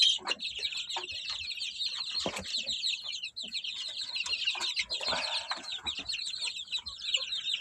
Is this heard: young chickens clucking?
yes